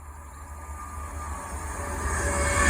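An Avanti passenger train rumbles past on the West Coast Main Line at Atherstone with a low, steady drone and faint rail squeal, growing gradually louder as it draws near.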